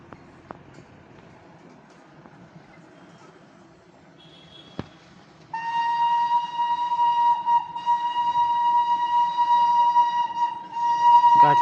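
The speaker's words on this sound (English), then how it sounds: "गाडीले सिटी बजायो" The Darjeeling toy train sounds its whistle, a loud sustained steady tone that starts partway through and holds for several seconds over low rumbling and ambient noise.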